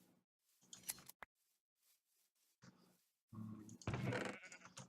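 Sheep bleating in Minecraft, several short wavering bleats with a snip of shears between them, close and clear against near silence, ending in a louder burst.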